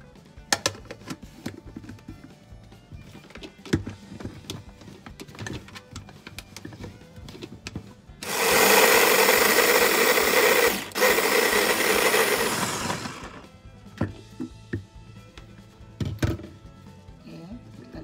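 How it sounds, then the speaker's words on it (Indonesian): A kitchen blender whirs loudly for about four seconds, chopping chili peppers for a spicy red snapper gulai, between quieter clatter and handling knocks before and after. "Ini saya blender ya."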